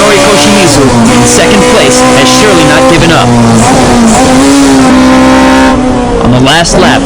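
Toyota AE86 Hachiroku race cars screaming around a track in close competition, loud high-revving engines rising and falling through gear changes, with brief tire noise near the end and no break in the roar.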